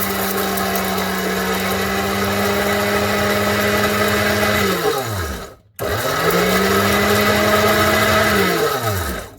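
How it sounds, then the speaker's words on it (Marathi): An Indian mixer grinder whirs loudly while grinding curry leaf chutney with chana dal and black pepper. A high, steady motor whine runs for about five seconds, winds down and stops briefly, then spins up again for a second run before slowing at the end. "आता इंडियन मिक्सीमध्ये फिरवून घ्यायचं आहे."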